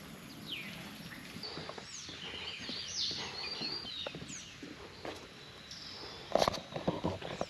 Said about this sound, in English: got the birds